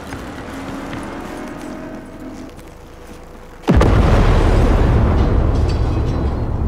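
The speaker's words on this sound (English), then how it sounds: "She's burning! Quick, before she blows!" A burning vehicle explodes in Cyberpunk 2077: a low rumbling crackle builds and then gives way to a sudden, loud blast whose roar carries on for several seconds.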